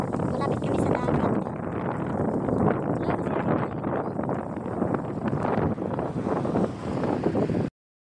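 Steady, rough wind buffets the microphone beside the sea for about seven and a half seconds, loud and continuous, then cuts off abruptly.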